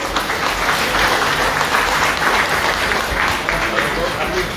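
Applause from the audience at a governance symposium in Cap-Haïtien, a dense, loud, continuous clapping that fills the hall for several seconds.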